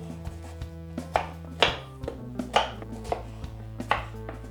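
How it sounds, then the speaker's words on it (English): A knife slices the peel off cantaloupe melon chunks on a board, a run of distinct close cutting thunks in an irregular rhythm, with no talking. "I'm just going to cut that peel right off"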